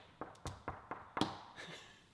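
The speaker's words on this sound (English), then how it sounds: "Let's knock on the door." Knocking on a door: five or six quick, light raps in an uneven run, the last few slightly heavier, close by and otherwise quiet.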